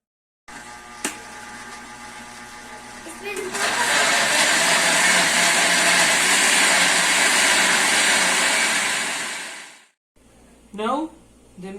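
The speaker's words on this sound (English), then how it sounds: "And cup of chicken flavor bouillon are blended in the blender." A kitchen blender whirring through a chicken bouillon mixture, a loud steady motor roar that starts after a short click, runs several seconds and stops, with a voice afterward.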